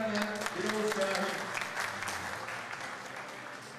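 An audience at the opening of a race stage in Kaynaşlı applauds the town's mayor, a lively round of clapping that starts strong and gradually thins, with a few voices and tonal sounds mixed in early.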